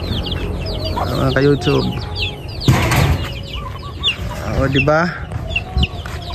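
Chickens clucking and cackling inside a small backyard farm coop, several close birds calling irregularly with brief wing flaps, while someone talks over them.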